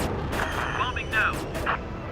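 Bombs exploding in the Vietnam-era air combat game Air Conflicts: Vietnam, a run of deep booming blasts rumbling under jet engine noise while someone speaks over them.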